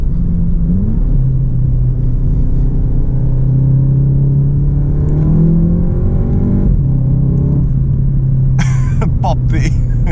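Audi A1 40 TFSI hatchback with its 2-liter four-cylinder turbo engine pulling hard, a steady droning rumble rising in pitch through the gears with a brief lift, heard from inside the cabin, with someone talking over it.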